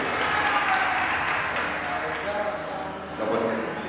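An audience at a Sinau Bareng gathering with a speaker and PDIP claps loudly and continuously throughout, with voices audible in the crowd noise.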